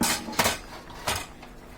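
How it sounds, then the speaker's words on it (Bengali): Bottle gourd being stirred in a cooking pot, with a few sharp metallic clinks and scrapes of a utensil against the pot, close and spaced apart over a quiet kitchen background. "এখন আমরা এটাকে একটু নাড়াচাড়া করে দিব।"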